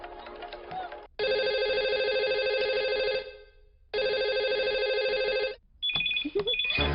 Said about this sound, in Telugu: ఫోన్ ఏంటి ఎంగేజ్ వస్తుంది?